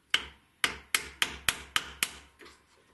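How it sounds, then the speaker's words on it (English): A chisel driven into wood along the edge of a soft vise jaw, seven sharp evenly spaced strikes close by, each with a brief ringing decay, and the last one fainter. "I'm using the chisel."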